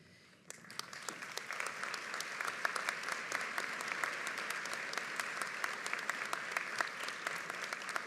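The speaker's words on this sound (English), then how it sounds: "You deserve this big round of applause for your excellent work." A large crowd at a university commencement for the College of Business and Public Management applauds its educators. The clapping swells in quickly after a short quiet start, then holds as a sustained, dense ovation with sharp individual claps scattered through it.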